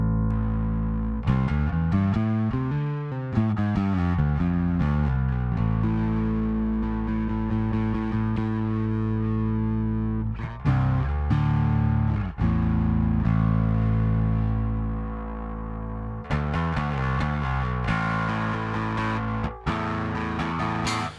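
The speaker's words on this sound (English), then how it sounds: "So let's kick on the distortion" Bass guitar played through a Trondheim Audio Devices SkarBassOne distortion pedal, gritty fuzzy notes and chords in a continuous riff with brief pauses, loud and close, no voices.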